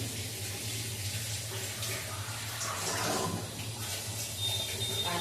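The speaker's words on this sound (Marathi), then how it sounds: "पाणी आपण दोन ते तीन पाण्याने व्यवस्थित असे धुवून घ्या" Flattened rice (poha) is rinsed under a steady stream of running tap water. The water gushes and splashes continuously over a low background hum.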